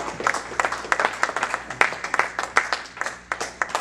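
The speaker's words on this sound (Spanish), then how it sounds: "Dele palmas al Señor." Congregation clapping together in church, a quick rhythmic run of claps carried by many hands in a room, with a voice faintly underneath.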